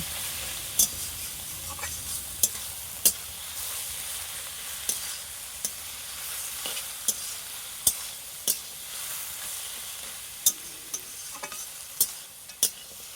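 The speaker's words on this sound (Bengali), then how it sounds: "এইবার আবার নাড়াচাড়া করে ভালোভাবে মাছের মাথাটাকে মিশিয়ে নেব" Fish head and bottle gourd frying together in a pan, a low continuous sizzle broken by regular sharp scrapes and clinks of a spatula as they are stirred, close by and with no voices.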